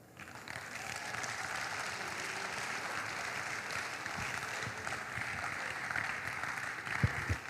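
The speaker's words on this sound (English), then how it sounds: "I think we can clap more to that." Sustained audience applause at a stakeholder forum following a poetry recitation, steady and dense clapping filling the room for several seconds, with a few louder claps near the end.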